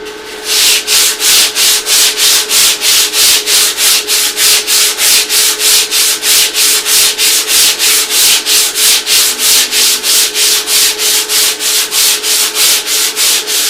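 Rhythmic sanding strokes rasp back and forth across the rough wooden hull of a fishing boat, about three per second, loud and close, steady and unbroken.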